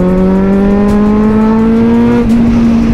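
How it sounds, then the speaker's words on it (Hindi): Kawasaki Z900 motorcycle exhaust revs loud and close, its rising tonal howl climbing steadily in pitch for a few seconds, with no talking. "ये आप एग्जॉस्ट की अभी आदत डाल दो"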